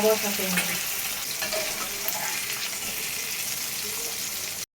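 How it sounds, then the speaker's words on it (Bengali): Koi fish fry lightly in hot oil in a pan, sending up a dense, even crackling sizzle close by, with faint movement sounds, before stopping abruptly. "এই মাছ কিন্তু বেশি ভাজা যাবে না তাহলে ভেতরে মশলা ঢুকবে না হালকা করে ভাজতে হবে"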